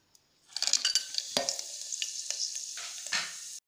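Whole cinnamon, cloves and cardamom sizzle and crackle as they hit hot oil, with quick popping bursts and a few light scrapes of a utensil in the pan.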